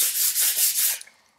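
A glass liquor bottle being sanded by hand with super fine sandpaper under light pressure, a bright, hissy scraping in several rhythmic strokes that fades into a few soft taps at the end.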